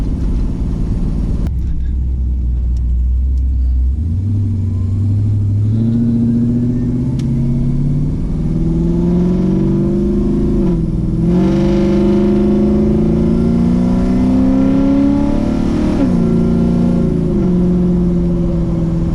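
A car with an LS swap engine pulls away on its first drive, a loud, close drone climbing in pitch through gear changes with brief dips between shifts, running steadily throughout with no talk.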